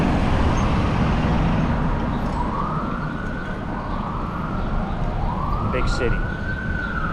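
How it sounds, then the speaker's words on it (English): Police sirens wail and rise in repeated sweeps over steady city traffic rumble, fairly close, heard while bicycling, with a voice speaking briefly. "Sirens. Whoa. I think we got another one."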